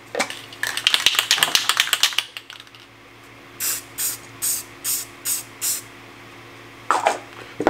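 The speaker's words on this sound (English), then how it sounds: "So I'm just going to go in and paint them with some paint now" A spray can hisses in a quick run of short bursts, then six evenly spaced puffs and one last burst, coating brass pen tubes held on a jig; close and loud with no talking.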